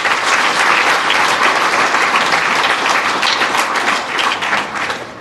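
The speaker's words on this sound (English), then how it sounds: "Please give them a round of applause." Loud, sustained applause from a large audience at a Liverpool Chamber of Commerce gala dinner, a thick wash of many hands clapping together that begins fading away in the last second.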